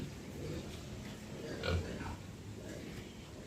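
Large pigs on a farm grunt once or twice amid a steady outdoor hiss, with soft background murmur.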